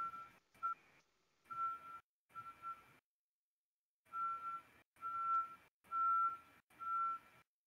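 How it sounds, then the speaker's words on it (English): A reversing lorry's warning beeper sounds in a steady series of evenly spaced tonal beeps, moderately distant and clear, with a short pause midway before the pattern resumes. "I can hear a lorry reversing your end."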